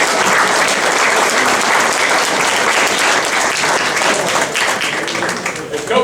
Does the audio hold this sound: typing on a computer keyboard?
no